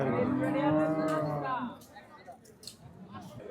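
Cattle at a busy livestock market give one long, loud, close moo that fades out, followed by low crowd noise and scattered clatter, with faint voices in the background.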